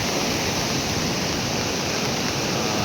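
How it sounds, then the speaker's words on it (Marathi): Small mountain streams swollen by heavy rain rush steadily over the hillside, a dense, constant broadband roar of flowing water, loud and close, with no voices. "हे छोटे छोटे ओढे बघा"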